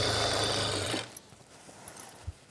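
A sewing machine runs steadily while stitching the side seam of the main cloth, without lining, for an invisible zip. The dense whirring lasts about a second, then stops, leaving a few faint taps and clicks.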